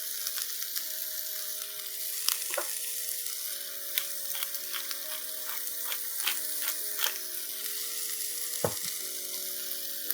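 A plant-based breakfast mix of vegetables with salt and pepper frying in a skillet, a continuous close sizzle broken by crackles and spatters, with occasional scrapes from mixing.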